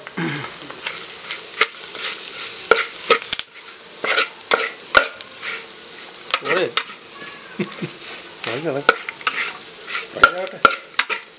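Beef fry crackling in a pan with curry leaves, stirred vigorously with repeated scrapes and clatters over a continuous sizzle, close and fairly loud.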